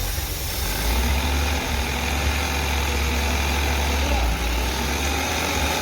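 A 2013 Volkswagen Jetta engine with a faulty throttle body, codes P0121 and P0221, runs steadily with a low rumble, close by, with little change in pitch and a brief rise partway through.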